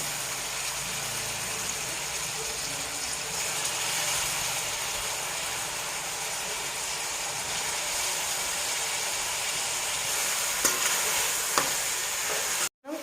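Country chicken pieces frying with ginger garlic paste in a pan give a steady close sizzle throughout, with a couple of sharp clicks near the end before it cuts off.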